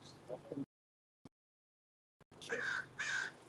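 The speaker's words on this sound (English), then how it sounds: "You can hear the birds." Harsh crow caws sound in short bursts, separated by near silence, with a couple of louder calls toward the end.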